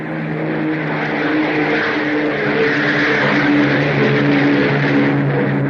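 Aircraft flying over an island, a loud, steady engine roar that stays constant and close throughout with no pauses.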